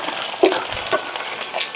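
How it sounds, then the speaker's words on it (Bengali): Vegetables and onion dropped into hot refined oil, giving a bright sizzle with a couple of sharp spits and stirring scrapes over a short, close burst. "আমি এবারে এই সবজিগুলো আগে ভেজে নেব"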